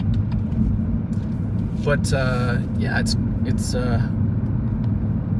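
Engine and road rumble fill the cabin steadily as someone's new car, a quick car, drives around Tokyo Bay, a low constant drone that continues under conversation between people inside.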